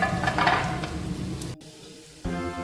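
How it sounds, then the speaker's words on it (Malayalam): Cabbage tossed and stirred in a hot frying pan for chicken fried rice, a steady close sizzle with scraping, cut off by a short near-silent gap before the sizzling resumes. "ക്യാബേജും ഇട്ട് നന്നായി ഇളക്കി യോജിപ്പിക്കുക"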